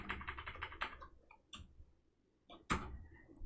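Typing on a computer keyboard, a fast burst of close keystrokes followed by a few isolated key taps and a sharper final clack, recorded alone at low level.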